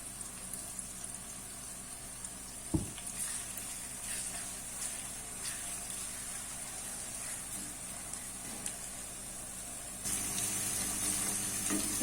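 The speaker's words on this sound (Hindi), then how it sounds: "जो अदरक लहसुन का पेस्ट था वो भी अच्छे तरीके से फ्राई हो गया" Ginger garlic paste fries with onions in a pan, giving a soft, steady sizzle with a brief clatter partway through and a slightly louder sizzle toward the end.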